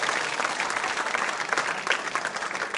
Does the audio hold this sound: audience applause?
yes